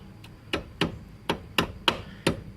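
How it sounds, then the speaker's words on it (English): A small hammer taps a steel tie rod on a 1998 Saturn SL2 six times in an even rhythm, each strike sharp, close and ringing briefly. "You may have to take your little bitty hammer"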